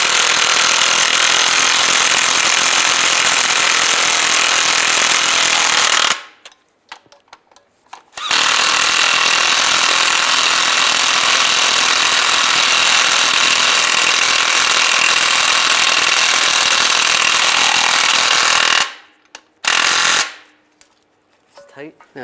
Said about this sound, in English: Tighten these down.